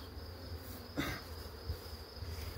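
Bees at a beehive covered by a mesh screen hum in a continuous, close buzzing drone, with a few brief louder rustles and no voices.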